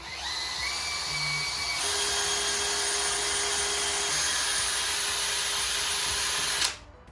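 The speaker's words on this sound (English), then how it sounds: "I've taken a new little sponge to buff it out" A headlight on a Peugeot 308 GTi CC being buffed with a fresh sponge and polishing compound on a power tool, giving a loud, steady whine that holds for about seven seconds, shifts pitch midway, then cuts off.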